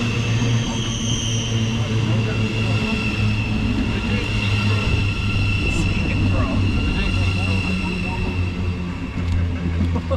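A Thameslink Class 700 electric train, unit 700/113, arrives at a platform with a steady low hum and drone that holds for about ten seconds, loud and close, with talk over it.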